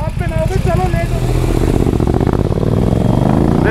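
A motorcycle engine runs loud and close with steady revving and some clatter, at the start of a Sunday fun ride, while people talk over it throughout.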